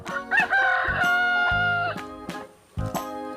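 Rooster giving one full, loud, close cock-a-doodle-doo crow, heard over a steady musical backing with no talk.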